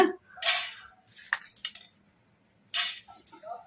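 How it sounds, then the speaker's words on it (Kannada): Coriander seeds spooned into a hot kadai on the stove, heard as a few bright clinks and rattles of the spoon and seeds against metal, in short separate bursts with quiet gaps between. "ಈಗ ಇದಕ್ಕೆ 1-2 ಸ್ಪೂನು ಧನಿಯಾ ಹಾಕೋಣ."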